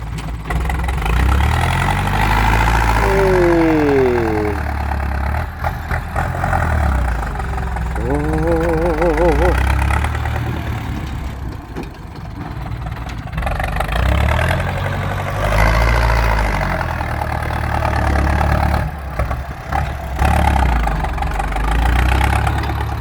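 A tractor engine runs steadily at a fish-pond earthwork site, a low, continuous rumble that holds throughout with intermittent voices over it.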